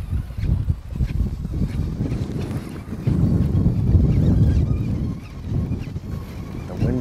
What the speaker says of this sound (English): The wind blowing in it nice.